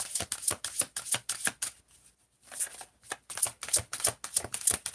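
Oracle cards are riffled and shuffled by hand in quick, rhythmic bursts of crisp slapping and flicking, close and clear. A short pause falls midway before the shuffling resumes.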